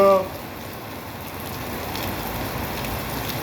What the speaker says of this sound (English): It's raining again, back-to-back weeks